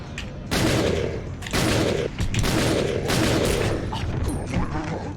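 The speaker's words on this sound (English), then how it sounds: "We're gonna equip the Magnum because we're about to get into a boss fight" Heavy Magnum gunshots in Resident Evil Dead Aim during a boss fight, several loud booming shots spaced about a second apart, each with a long reverberant tail that fills the gaps.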